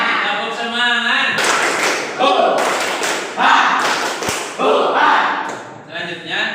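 A class of students performs a rhythmic spirit clap in a classroom, bursts of loud group clapping and stamping in rounds, mixed with shouting and chanting voices.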